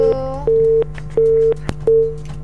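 Busy tone after a dropped phone call: a loud, steady beep repeating four times in an even on-off rhythm over a low constant hum, with a click between pulses.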